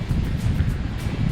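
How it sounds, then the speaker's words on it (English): Wind buffets the microphone outdoors on a cold, windy day of fishing, a low, rumbling gusty roar that rises and falls, close and steady with no voices. "Wind blowing my stuff all over the place."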